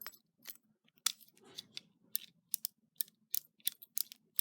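A Dover elevator key, type H1848, turning in a Dover key switch gives a series of sharp, close mechanical clicks in an irregular rhythm, quiet and alone.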